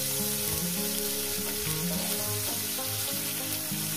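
Bhetki fish frying in a pan, a dense continuous sizzle held close and loud for the whole stretch, with no talk over it.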